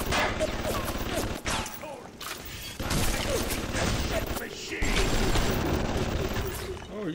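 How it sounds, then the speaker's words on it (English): Automated turret in the BioShock video game firing bursts of gunfire at the player, a dense rattling barrage running almost continuously with brief breaks, mixed with game sounds and a voice talking. "are you shooting me in the back while you're supposed to be trying to help me, Mr. Machine? Mr. Turret?"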